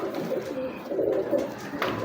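A pigeon coos close by in low, throaty bursts, several rolling calls in a row, the last one rising slightly; the bird is held up for viewing.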